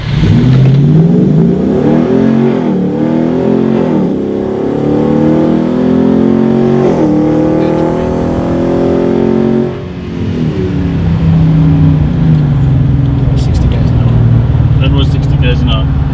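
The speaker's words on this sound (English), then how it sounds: "Just listen to those gear changes and the exhaust note." A RAM 1500 with a 6.4 HEMI V8 accelerates hard, its loud engine rising in pitch, dropping at each gear change and climbing again, with a deep exhaust note throughout as someone talks over it.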